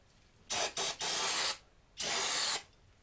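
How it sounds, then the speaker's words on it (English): Brake parts cleaner sprayed from a can to hose out a Harley Davidson engine's lower end: two short hissing bursts, then a longer blast and another long spray, close and loud with no talking. "We're going to hose this out."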